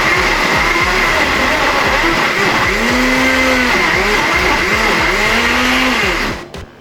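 A kitchen blender briefly chopping half an onion, a loud continuous motor whir with cyclic pitch swells as the blade catches the pieces, running alone before cutting off abruptly at the end.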